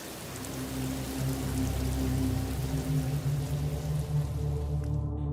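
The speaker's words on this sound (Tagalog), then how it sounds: "Napakalakas ng ulan." Heavy rain pours in a steady, dense hiss of drops on surfaces, loud and continuous throughout with a low rumbling undertone, then cuts off abruptly at the end.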